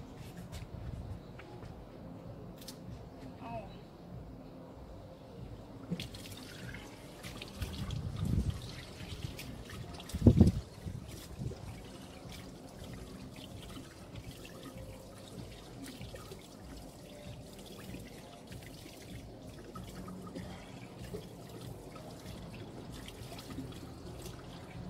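Water runs from an outdoor sink tap as hands and face are washed, a soft steady trickle with a few louder splashes midway, close by and fairly quiet.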